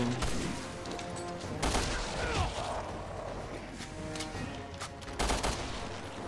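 Gunfire in the video game Resident Evil Revelations 2 on PS4: several loud, sharp shots burst out over a dense, busy game soundscape, with the strongest blasts near the start, in the middle and toward the end.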